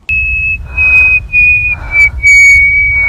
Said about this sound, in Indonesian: terus tiba-tiba siulan